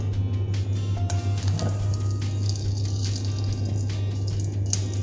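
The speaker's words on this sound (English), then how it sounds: "As you can hear the sizzling." Continuous sizzling of bacon and salami frying in a pan, a dense crackling hiss with a low steady hum underneath.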